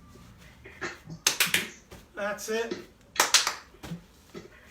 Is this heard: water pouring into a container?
no